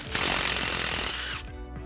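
A power tool with a 13mm socket spins a nut off during a suspension lift on a 2010-2014 Ford F-150 Raptor, a loud harsh rattling buzz that winds down at the end, no voices.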